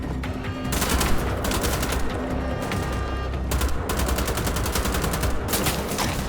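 Rapid automatic gunfire from the World War II shooter Wolfenstein: The Old Blood rattles in dense, continuous bursts with short gaps, loud and close over a heavy rumbling game soundscape.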